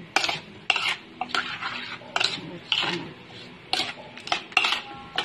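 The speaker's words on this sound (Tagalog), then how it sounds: "Okay, haluin na po natin." Bitter melon salad is stirred in a bowl, with a spoon making repeated clattering scrapes and clinks in irregular bursts, close and fairly loud.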